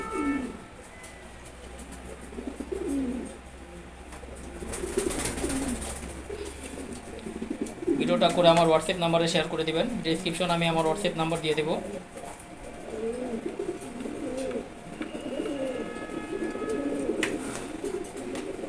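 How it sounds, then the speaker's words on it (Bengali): Male Giribaz pigeons give soft, low cooing calls at close range, mixed in with someone talking throughout. "এটা আছে প্রথম কবুতর, দেখেন অসাধারণ একটা নর কবুতর"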